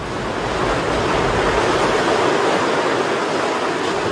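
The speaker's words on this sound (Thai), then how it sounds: "คลื่นที่ทรงพลังคือสิ่งที่ทรมานพวกมัน" Powerful ocean surf crashing against volcanic rocks on the Galápagos coast, a loud, unbroken roaring wash of water and spray with no voices.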